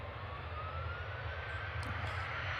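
An EasyJet jet airliner starts its takeoff roll, heard as a faint, distant and steady engine rumble with a thin whine above it, lasting only a moment.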